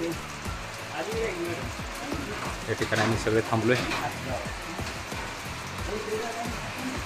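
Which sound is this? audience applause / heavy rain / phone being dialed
heavy rain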